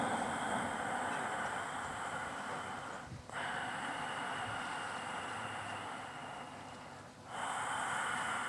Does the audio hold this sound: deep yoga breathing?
yes